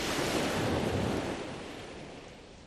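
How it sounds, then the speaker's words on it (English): Ocean surf crashes and rushes in a broad, steady roar that slowly fades as the wave recedes, with no voices. "in the sounds of the ocean beating on the shore"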